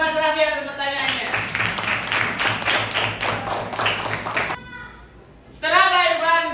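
Students in an Islamic religious education teaching-practice classroom clap for a classmate's question: a few seconds of brisk clapping between stretches of someone talking before and after.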